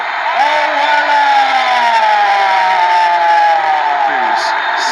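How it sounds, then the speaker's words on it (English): Arena crowd at a boxing event booing, screaming and cheering as boxer Joe Weller from Eastbourne makes his entrance, a dense, sustained roar with music playing and an announcer talking over it. "Boos, screams, cheers."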